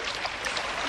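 Clear river water flowing in a Doraemon cartoon, a faint, continuous bright babbling stream with no voices over it.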